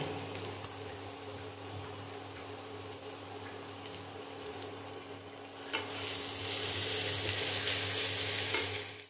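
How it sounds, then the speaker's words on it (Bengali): Spice masala frying in oil while being stirred in a pan, a soft crackling sizzle over a low steady hum that swells into louder, brighter hissing toward the end, no voices. "এই মশলাটাকে ভালো করে কষিয়ে নিই"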